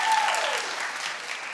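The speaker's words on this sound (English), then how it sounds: "Clap if you know who that is." Studio audience clapping on a daytime talk show, a short dense burst of applause close to the microphone that thins out quickly.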